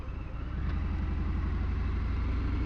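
Harley-Davidson Fat Bob motorcycle engine rolling at slow speed, a deep, steady, low rumble with a pulsing beat that swells after a softer start and stays close and even.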